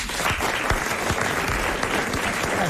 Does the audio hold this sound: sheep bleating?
no